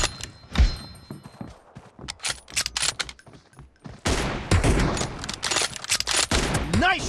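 Rapid bursts of gunfire from the mobile shooter PUBG Mobile in a team deathmatch, sharp close shots and sustained automatic volleys that grow denser and louder in the second half, with brief voice callouts in between.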